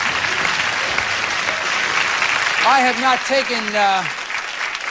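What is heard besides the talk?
studio audience applause for the beauty queens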